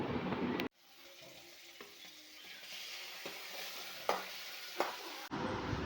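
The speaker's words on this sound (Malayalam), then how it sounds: "ബാക്കി മീനും കൂടെ വറുത്തെടുക്കാം." Masala-coated fish, Kerala style, fries in hot oil with a steady broadband sizzle, broken by a few sharp crackles and pops, close up and alone.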